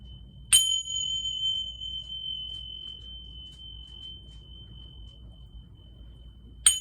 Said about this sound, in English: And we'll go ahead and ring the bell